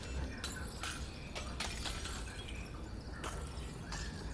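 Repeated glass panes shatter in the VR game Half-Life: Alyx, a series of sharp crashing breaks spaced across the moment, each trailing into tinkling shards over a low background hiss.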